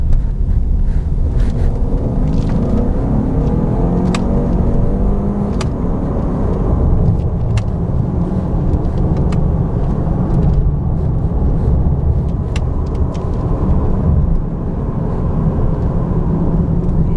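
Lincoln Nautilus 2.7 AWD engine accelerating in S mode, a steady loud low drone and rumble heard from inside the cabin, with no talking over it.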